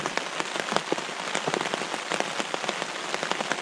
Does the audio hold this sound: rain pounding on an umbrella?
yes